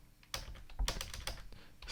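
Script code typed on a computer keyboard, a short quiet run of close individual keystrokes in an irregular rhythm, with no one talking.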